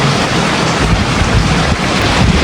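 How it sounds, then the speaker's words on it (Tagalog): Heavy rain pours down during a fishing outing, a loud, steady, unbroken roar with no other sound standing out. "Napakalakas po ng ulan ngayon."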